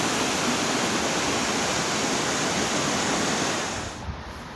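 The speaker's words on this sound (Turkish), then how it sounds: "Sol Deresi Karadeniz'e doğru gümbür gümbür yoluna devam ediyor" A river, the Sol Deresi near Canikdere Waterfall in Tonya, Trabzon, rushes and roars in a loud, unbroken wash of noise that eases slightly at the very end.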